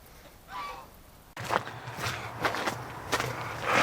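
Ducks on a frozen winter day give a few honking calls close by. Crunching footsteps on snow or ice run underneath.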